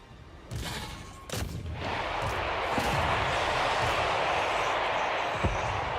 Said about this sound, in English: I thought I just heard a cannon then.